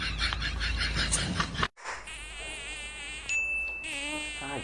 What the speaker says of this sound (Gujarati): તમને એકલાને જ ચમ મચ્છર કરડે હે?